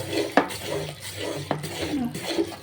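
A spoon scrapes and clinks around a pan of jaggery ariselu mixture with ghee, two sharp knocks against the metal amid a steady, loud stirring and soft sizzle.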